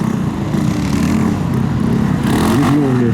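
A Lifan KPV 150 motorcycle engine runs loud and close through a gymkhana run, droning steadily with uneven throttle changes and a rising rev near the end.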